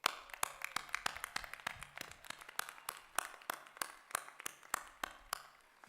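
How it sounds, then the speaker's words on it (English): Audience applause for graduates at a college spring commencement, scattered individual claps from a thin crowd, faint and distant, irregular and echoing in a large hall. "So family and friends in the back, please give the graduates a round of applause."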